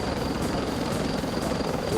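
Helicopter during military mountain rescue training, a steady loud rotor and engine roar with rhythmic blade pulsing throughout; voices may be faintly buried beneath it.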